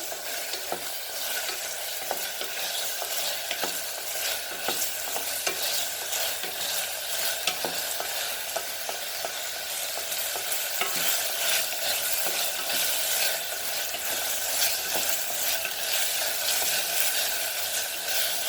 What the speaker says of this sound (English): dry spices are added to our kafrial masala. Fry it nicely.